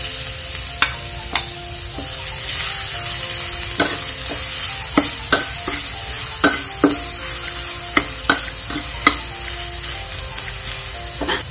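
Garlic fries in hot oil previously used for frying milkfish, a loud close sizzle punctuated by regular sharp spatula clinks and scrapes on the pan, with no voices.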